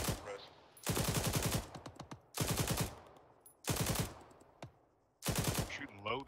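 A machine gun in the military shooter Arma 3 fires four long, loud, close sustained bursts separated by short pauses, with a voice talking briefly near the end.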